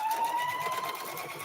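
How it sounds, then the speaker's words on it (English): A sewing machine used for quilting stitches in a steady, fast whirring run, its motor tone holding close and even for the whole short stretch with no voices. "I have a Topaz 50, which is a embroidery and sewing machine also."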